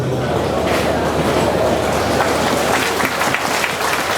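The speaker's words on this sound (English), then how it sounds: "I don't know why when I say you want to go bankrupt, you all clap your hands." Rally audience clapping hands at a political speech, a loud, dense wall of applause from a large crowd sustained throughout with no talk over it.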